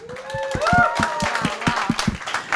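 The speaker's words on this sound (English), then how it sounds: "So I want to kind of give a round of applause for Lindsay for helping to organize this." A meetup audience in a San Francisco office applauds, scattered claps rising and continuing steadily over a low murmur of voices, with a few people talking and cheering through it.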